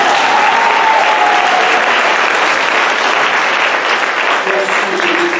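A church congregation applauding, dense steady clapping from a crowd filling the room throughout, with a brief sung or voiced tone near the start and faint voices underneath.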